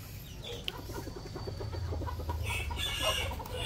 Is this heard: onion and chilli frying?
no